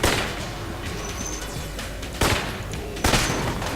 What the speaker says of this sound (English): There's a sniper, gotta dodge that.